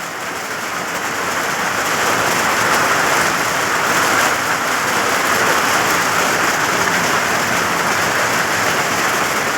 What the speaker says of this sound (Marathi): तेव्हापासून पाऊस उघडला नाही अजून.